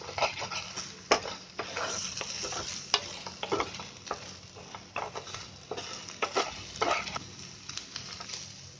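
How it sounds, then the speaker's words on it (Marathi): Beaten egg sizzles in a hot pan while a spatula stirs it quickly, producing a continuous frying hiss punctuated by frequent scraping knocks against the pan at an irregular pace, nearby and with no speech. "हे अंडा जास्त शिजवत नाही राहायचं, असं पटकन हलवून घ्यायचं आणि काढून घ्यायचं."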